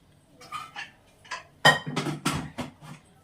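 Steel plates and spoons clatter and clink as they are picked up and set aside in a home kitchen, several separate bursts of rattling at close range with brief pauses between them.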